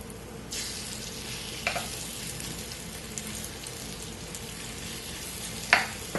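Enoki mushroom and shrimp fritters fry in a pan with a steady, soft sizzle and a few brief louder crackles and stirring sounds, heard alone with no voices.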